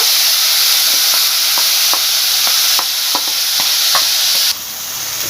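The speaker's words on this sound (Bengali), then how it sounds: "এই যে পেঁয়াজটা এখন ভেজে যেতে হবে" Onion paste frying in hot oil with cardamom, cloves and cinnamon for a Bengali katla fish curry, giving a steady bright sizzle with faint spoon taps and scrapes scattered through, close and loud throughout.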